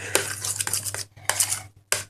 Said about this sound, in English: So just mix it and mix